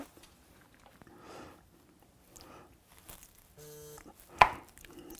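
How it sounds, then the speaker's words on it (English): A knife slices through a chocolate truffle into bite-sized pieces: a few soft, separate cuts against a board, close and quiet, ending in one sharper knock. "what we do is now cut it into small bite-sized pieces"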